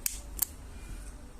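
A gas lighter shaped like a makeup brush is ignited, giving two sharp, close clicks a moment apart, then low hissing, with no speech.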